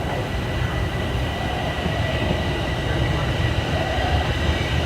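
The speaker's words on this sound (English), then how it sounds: "Sounds like my train" A Toronto subway train rolls into a station with a steady, loud rumble and broadband roar, and faint wheel squeal rises above it throughout.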